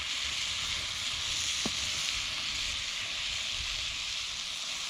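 Paneer curry sauce sizzles and catches on the bottom of the pan over a Trangia 27 series camping stove, giving a steady, close hiss with faint crackle and no break for the whole stretch.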